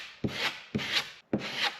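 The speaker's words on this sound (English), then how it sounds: "again scrape with the knife flat" A putty knife held flat scrapes over caulk-filled holes in a plywood wall, three short rasping strokes each starting with a sharp attack, close and fairly quiet.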